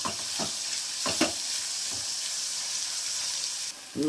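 Chopped onion frying in a pan for a rustic village vegetable dish, a steady close sizzle with a few short stirring scrapes, heard alone without talk.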